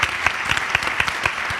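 An interview audience claps loudly for a band member, a brisk close burst of many hands with rhythmic peaks and no voices over it.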